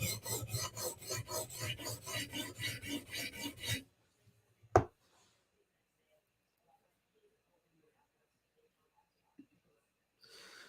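A knife drawn across a sharpening stone to raise a burr on the opposite edge, a run of steady rhythmic rasping strokes for a few seconds, then quiet with a single sharp knock and a faint scrape near the end.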